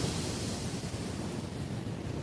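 Loud, continuous rush of strong surf pounding nearby on a Zambales beach, Philippines, a dense roar with wind buffeting the microphone and no pauses.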